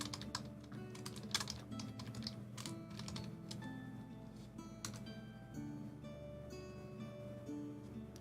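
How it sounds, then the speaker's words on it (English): Rapid, uneven clicking of keys on a computer keyboard, close and clear, in bursts over a faint steady background hum with no talking. "Bree's typing."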